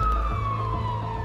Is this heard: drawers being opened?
no